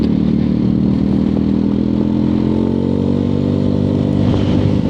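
A Royal Alloy 180cc scooter with a Tasso conversion rides along a road at around 45 mph. Its engine drones steadily and loudly with a constant buzz, mixed with wind rush and road clatter, and there is no talking.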